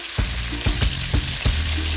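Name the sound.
seasoned mahi-mahi fish frying in oil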